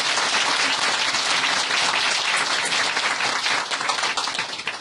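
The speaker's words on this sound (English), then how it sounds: "Applaud to the storyteller at least" An audience at a spiritual talk applauds a storyteller, a dense, steady wash of clapping that holds strong throughout before easing slightly at the end, with no speech over it.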